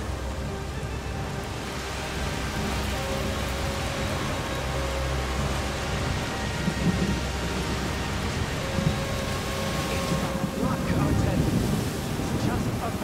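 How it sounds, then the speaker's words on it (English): Stormy rain and wind in the video game A Plague Tale: Requiem form a continuous hiss and rush of rain with gusting wind, swelling slightly toward the end, with no clear thunder. "It's just a storm."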